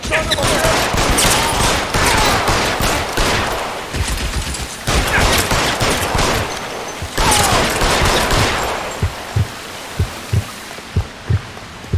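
BAR automatic rifle fire in L.A. Noire, with long, loud, rapid bursts and brief pauses, then a few single spaced shots near the end.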